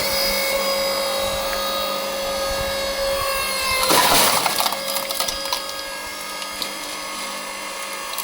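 An AL-KO LSH520/5 electric horizontal log splitter forces apart a piece of oak, giving a steady motor whine that rises into a loud cracking, splintering burst midway before settling back to the running hum.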